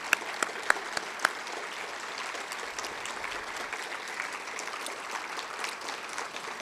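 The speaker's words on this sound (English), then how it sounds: "We would like to give you one more round of applause." Audience applause at a city State of the City address, a steady mid-level wash of clapping from a crowded room with a few sharper individual claps near the start.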